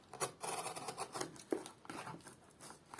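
Packing tape rips and rasps off a parcel box from AliExpress in several short, scratchy pulls, close up.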